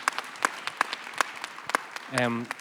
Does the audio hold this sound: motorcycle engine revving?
no